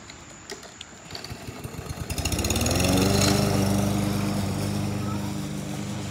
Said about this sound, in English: He's being annoying with that lawnmower.